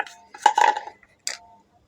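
A metal cooking pot clatters and scrapes as it is handled, a couple of bright ringing knocks close by, with a pause between them and no talking.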